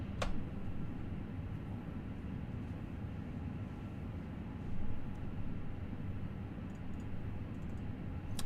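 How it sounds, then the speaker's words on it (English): An Airbus A319's number 2 engine spools up in a flight simulator, giving a steady, broad low rumble with a slight swell around the midpoint and a sharp click near the start. "Let's go ahead and spool up engine number 2"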